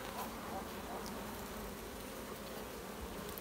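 Honeybees drone in a continuous close buzz over an open hive frame during beekeeping, with brood and drones on the comb, steady and unbroken throughout.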